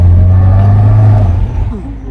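Automatic car engine revving close by, a loud steady low drone that holds for over a second, then eases off with a falling whine as the revs drop.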